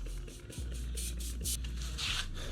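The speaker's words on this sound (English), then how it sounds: "let's go ahead and spray the bottom side" Short bursts of hissing spray repeat several times at a close distance as liquid is sprayed onto the bottom side of ribs, separated by light scraping and handling noises, over a low steady hum.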